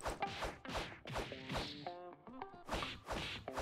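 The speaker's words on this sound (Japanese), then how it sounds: "パンチの音。初めてパンチの音聞いたわ。" Punch impacts land in the Roblox One Piece game Grand Piece: a run of sharp, loud whacking thuds repeats roughly every half second, broken by a brief stretch of tonal game sounds before the hits resume.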